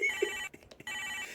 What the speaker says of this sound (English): My next guest is ringing in.